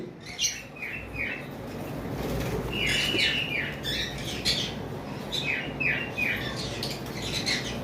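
Caged pet birds on a bird farm chatter almost constantly with quick bursts of high chirps and tweets over a steady low room rumble. Wingbeats or fluttering may mix in.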